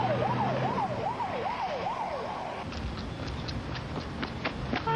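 A wailing emergency rescue vehicle siren sweeps up and down in a steady cycle for a few seconds, loud and close, then cuts off and leaves traffic noise with a few short clicks and chirps.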